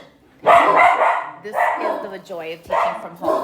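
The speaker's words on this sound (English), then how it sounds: "okay, that's my dog thinking about insides and outsides" Pet dogs bark in repeated loud bursts close by inside a home, overlapping a person speaking.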